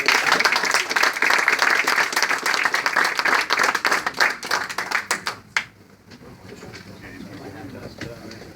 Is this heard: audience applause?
yes